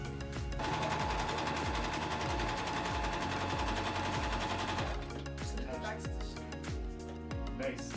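A sewing machine runs in fast continuous rattling bursts, close and loud, stitching together star blanket pieces cut as 45-degree squares for an eight-point star; the stitching pace slows and grows uneven toward the end.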